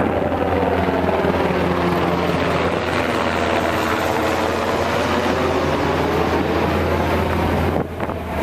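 Steady low rotor drone of a helicopter over Point Loma mixed with wind and engine rumble, loud and continuous throughout, with no voices.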